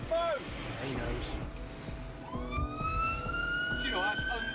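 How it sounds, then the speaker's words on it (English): A wailing ambulance siren rises and sweeps through a street scene, drifting in the mid-distance over traffic noise and background voices. "Oh, the ambulance."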